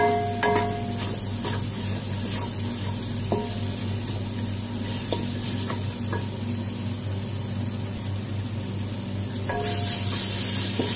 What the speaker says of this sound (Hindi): मसाला हमारा भुन रहा है।